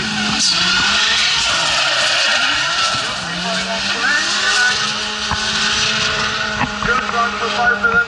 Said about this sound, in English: There's a pair of cars is coming down the hill now. It's Dave Baston leading in that AE86.